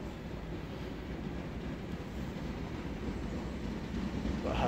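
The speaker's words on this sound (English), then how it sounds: "They do sound gorgeous, the 313." A British Rail Class 313 electric train rolls through Hitchin station with a steady, low rumble. It is fairly faint and sounds a little distant, holding an even level for several seconds and building slightly at the end.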